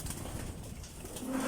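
Racing pigeons from a south team coo inside a training box, a soft low cooing near the microphone that rises slightly at the end, with no talking.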